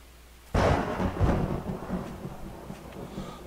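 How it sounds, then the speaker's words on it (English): A sudden, loud crack of thunder in the video game 7 Days to Die breaks out and rolls on in a long, rumbling decay, heard alone without any voices. "Let me know if that lightning's a little loud"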